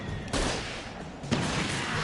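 Two heavy gunshots boom in Alan Wake Remastered, each a loud close blast with a long rumbling decay, spaced about a second apart.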